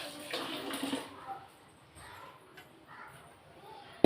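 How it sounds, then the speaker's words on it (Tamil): Garlic cloves being washed by hand in rice-washing water for a garlic kulambu, with soft, faint splashes and sloshing in a vessel, ending in a sharp clatter. "நான் இப்போ தண்ணியில் போட்டுக்கிறேன். கொஞ்சம் நேரம் கழுவிட்டு போட்டுக்கிறேன்."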